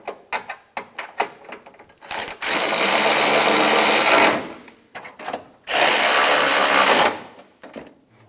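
Power tool, likely an impact or electric drill, snugging bolts during timing belt and water pump work on a 2000-2006 Toyota Tundra 4.7L V8, two loud sustained runs of about two and 1.5 seconds separated by clinks and handling noises.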